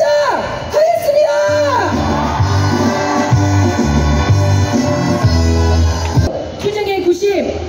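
A crowd whoops, shouts and cheers at a Hyundai Marine & Fire Insurance call center general strike rally in Seoul, a loud, steady mass of voices that keeps going for several seconds.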